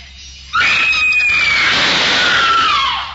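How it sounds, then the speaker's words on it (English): A man's shrill, sustained scream from a 1962 horror film bursts in loudly after a quiet moment, holding a piercing high pitch that slowly slides downward for nearly three seconds. "That scream, high enough to shatter crystal."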